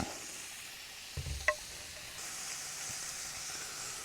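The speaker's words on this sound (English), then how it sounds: "Slide our ham in. That pan's still nice and hot." Ham slid into a hot pan on a Camplux FG01AR portable camp stove gives a low steady sizzle and hiss after a brief clatter and thump, close, no voices.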